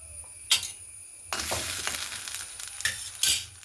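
Food frying in oil in a pan, a steady crackling sizzle with a few louder bursts of spatter and stirring, close and continuous without speech.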